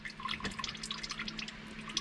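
CVT transmission fluid drips from a 2017-2022 Honda CR-V during a filter change, making a quick, irregular patter of small wet drops close by, with no talking.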